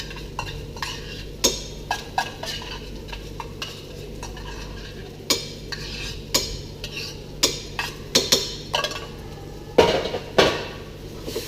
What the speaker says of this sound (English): the next ingredient going in is going to be my tomato paste, which I'm going to cook out for about 30 seconds